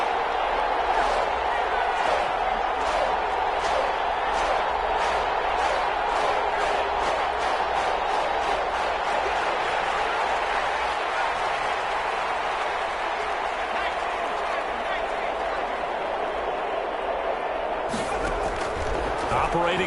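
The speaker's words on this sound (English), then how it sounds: "the crowd getting into it as we come up on a big third down" Stadium crowd in a PS4 football video game cheers and roars steadily for nearly twenty seconds ahead of a big third down, loud and continuous, with a sharper burst of noise near the end.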